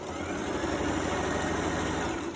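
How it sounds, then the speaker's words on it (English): A sewing machine runs a back stitch with a steady, continuous motor whir that stays close and even throughout the short stretch, with no speech. "Start sewing with back stitch"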